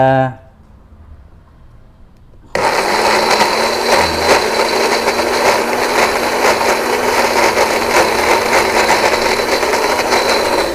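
Electric blender motor running after a rust repair, kicking on abruptly with a loud, steady high whine and buzzing hum that continues evenly to the end after a short quiet stretch.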